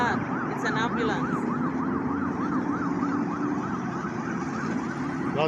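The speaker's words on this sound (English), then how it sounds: "It's an ambulance." An ambulance siren wails in a rapid rising-and-falling pattern, moderately distant, over the low hum of passing road traffic and motorcycles in Silang, Cavite, Philippines.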